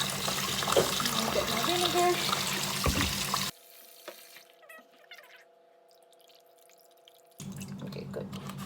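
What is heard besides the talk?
kitchen tap running water to wash stew beef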